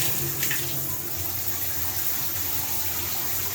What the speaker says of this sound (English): that's the handheld sprayer